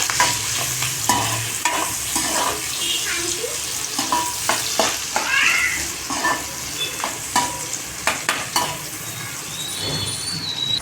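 Sliced onions and curry leaves fry in a hot pan for egg fried rice, with a steady sizzle broken by repeated scraping stirs of a spoon against the pan, close and continuous, with no talk.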